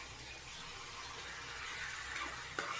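Chicken sautéing in a pan for a simple chicken gravy, a steady soft sizzle with light stirring scrapes that swell slightly toward the end, no voices.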